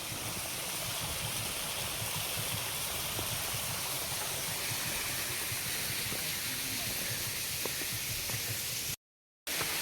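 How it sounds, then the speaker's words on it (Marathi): A small waterfall in a monsoon forest rushes as a steady, broad hiss, close and constant, with no voices over it. "आणि मित्रांनो इकडे एक छोटासा वॉटरफॉल आहे"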